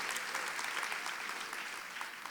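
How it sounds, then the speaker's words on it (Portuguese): A church congregation at a worship service claps together in sustained, quiet applause, heard from a distance as a steady patter of many hands. "Se você está recebendo, dá uma salva de palmas ao Senhor."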